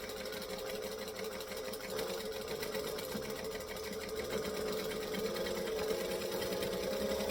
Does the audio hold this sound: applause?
no